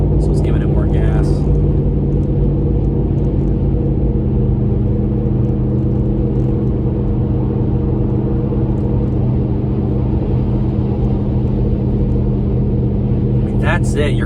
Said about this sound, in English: There's a little bit of a low-end grumble. Going up a hill here, so it's giving it more gas.